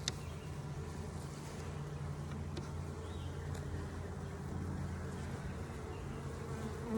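Honey bees buzz steadily on a frame pulled from a brood box, a dense, continuous hum of many insects close by with a few faint knocks, no speech.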